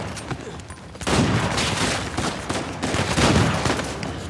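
A burst of rapid, booming shotgun fire in the video game Uncharted 4 erupts after a brief quieter stretch, shots overlapping into a loud, continuous barrage of blasts.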